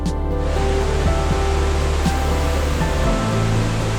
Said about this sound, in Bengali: পাহাড়ের বুক চিরে নেমে আসা এই জলরাশি